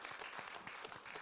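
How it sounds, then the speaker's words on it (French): Brief applause from an audience for Annie at a Columbia Global Centers event, a soft, fairly faint patter of many hands clapping. "Applaudissements pour Annie."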